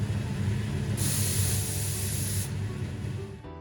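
A color spray machine's water pump runs the spray booth's water curtain, giving a steady, continuous hiss and rush of falling water, with a brighter spray burst through the middle.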